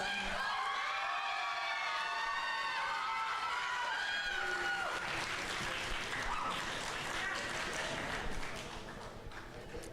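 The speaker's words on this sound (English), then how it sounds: "please give a round of applause for Shiloh." A crowd at a high school poetry slam claps steadily for several seconds at close range, with cheering and scattered voices mixed in; the clapping thins near the end.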